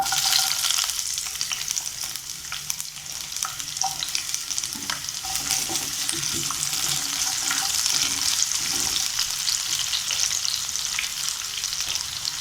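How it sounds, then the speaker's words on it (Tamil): Cumin seeds and onion fry in hot oil in a kadai, giving a steady, close, hissing sizzle with occasional stirring scrapes throughout, no voices. "கடாயில் எண்ணெய் ஊற்றி வச்சு காஞ்சது நம்ம கொஞ்சமாக சீரகம் போட்டுக்கலாம், வெங்காயம் போட்டுக்கலாம்"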